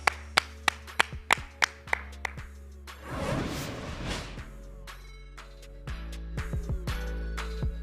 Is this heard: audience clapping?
yes